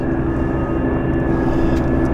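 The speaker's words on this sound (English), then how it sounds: "I have a helicopter somewhere, but I don't quite see it. I hear it, but I don't see it." A helicopter flies somewhere near an airport, its continuous loud engine drone and low rumble steady and unbroken, with no talking.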